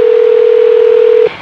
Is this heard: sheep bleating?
no